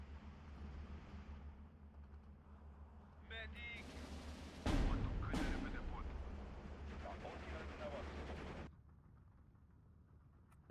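Mortar fire and explosions in the World War II strategy game Steel Division 2 during an Axis campaign battle near Tiraspol: a deep booming blast breaks over a low rumbling battlefield din, followed by sharper cracks and sustained rolling noise.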